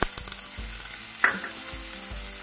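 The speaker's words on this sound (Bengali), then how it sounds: "এখন এই যে ফুলকপিটা এই জায়গায় দিয়ে দেবেন, মিক্স করবেন" Cauliflower frying in a pan as it is stirred and mixed for a Bengali cauliflower and egg dish, a steady close sizzle with soft scrapes and clinks from the spoon.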